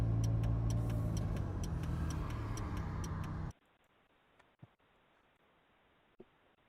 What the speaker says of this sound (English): it is realistic because I recorded myself driving a car